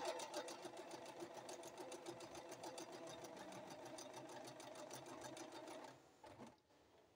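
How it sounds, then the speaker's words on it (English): A sewing machine stitches buttonholes with a rapid, even needle clatter that runs steadily and fairly quietly, then slows and stops with a few faint mechanical clicks at the end. "this machine only produces one style of buttonholes"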